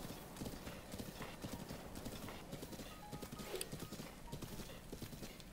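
Horse hooves clip-clop at a steady trotting rhythm in Zelda: Breath of the Wild, a continuous close patter of hoofbeats under faint game ambience, with a brief whinny-like tone partway through.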